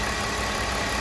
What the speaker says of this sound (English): The vehicle is running smooth. There's no more shaking, no more rough idle.